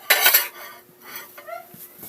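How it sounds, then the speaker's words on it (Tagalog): Ceramic plates clinking and knocking together as they are unpacked from a shipping box, a bright clattering burst followed by lighter scattered clinks close by, no speech. "Wow, napakadaming pinggan."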